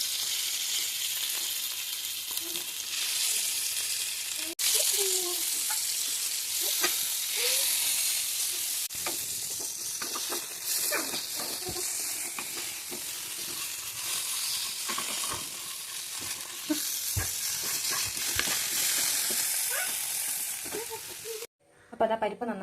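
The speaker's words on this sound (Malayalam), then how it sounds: "കുറച്ച് കഷ്ണം മീനുണ്ട്, അതൊന്ന് പൊരിച്ചെടുക്കാണ്." Pieces of fish fry steadily in a pan, a continuous loud sizzle and hiss running throughout with occasional stirring clatter and a brief dip near the end.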